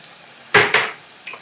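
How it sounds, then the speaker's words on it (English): A spicy tamarind dish is stirred in a pan: two quick, close scrapes of a utensil against the metal, then a fainter clink a moment later. "Okay, stir."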